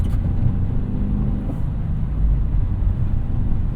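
A Subaru WRX on Bridgestone Potenza all-season tires fishtails through snow, its engine a steady low rumble with tires hissing and sliding, heard from inside the car without talk.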